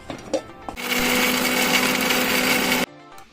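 An electric mixer grinder roars for about two seconds, blending white mustard seeds with mustard oil into a paste, after a few soft clicks and before cutting off abruptly.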